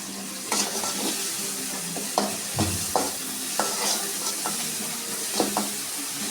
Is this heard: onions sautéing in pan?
yes